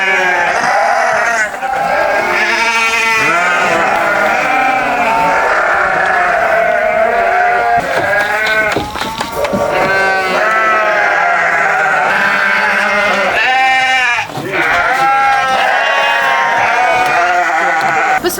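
A herd of goats on a farm in a Chechen village bleats loudly and almost without pause, many overlapping close calls filling the whole stretch, with a few brief dips between them.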